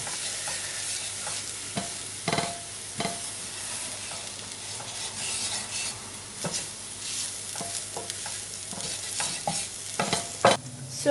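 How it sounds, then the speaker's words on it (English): Spoon stirring a heaped teaspoon of plain flour into a chicken and mushroom pie filling in a hot pan, with a soft continuous sizzle and scattered scraping knocks against the pan, close and steady with no talking. "I need to stir that to cook it."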